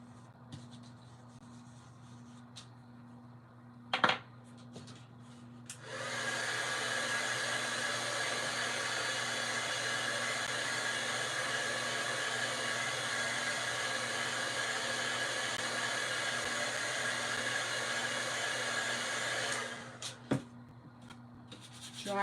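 A hair dryer drying paint on a Dollar Tree craft project, switched on after a few quiet seconds with a small tap, blowing steadily and fairly loud for about fourteen seconds, then cut off.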